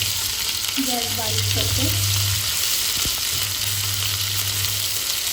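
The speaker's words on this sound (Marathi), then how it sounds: "फोडणीला थोडासा कांदा आणि त्याच्यात थोडीशी आलं लसूणची पेस्ट।" Onion and ginger-garlic paste fry in a hot tempering for misal pav, giving a steady, close sizzle that runs the whole time. Someone speaks briefly over the frying.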